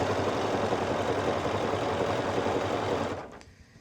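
A sewing machine runs steadily, stitching fabric gathers with a fast, even mechanical whir that holds loud and close for about three seconds before stopping abruptly, leaving near silence.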